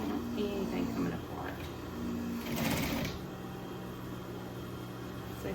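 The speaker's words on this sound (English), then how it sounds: "I'm still back tacking a little bit." A sewing machine runs in short bursts while back tacking seams on Christmas stockings, a close mechanical whir that stops and starts, with someone talking quietly over it.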